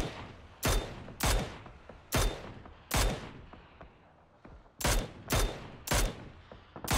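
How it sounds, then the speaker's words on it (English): Bursts of gunfire in PUBG during a pro scrim match, seven loud sharp volleys in irregular clusters with quiet gaps between, no talk over them. "Shots coming out now from all over the place."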